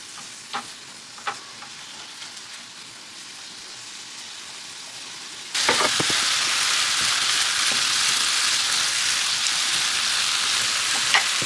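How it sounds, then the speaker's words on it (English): Shrimp dropping into a pan of noodles over turned-up heat, first a few light clinks against quiet background, then a sudden loud, dense sizzle that holds steady and close with occasional stirring scrapes. "I'm gonna turn this heat back up, and I'm gonna start adding in my shrimps."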